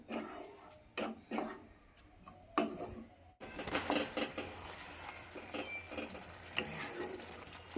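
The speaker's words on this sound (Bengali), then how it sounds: "সমানে নেড়ে নেড়ে মশলাটাকে কষিয়ে নেব" Spice paste with tomato is stirred and fried in a pan. There are scattered scrapes and clinks at first, then a denser, continuous sizzling texture with repeated stirring strokes, all faint and near.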